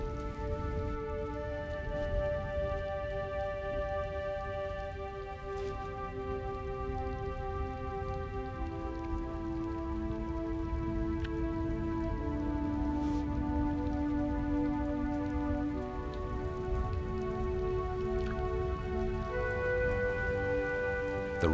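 Rain patters steadily across open African plains, a dense even hiss of drops heard beneath sustained tonal music with no voices.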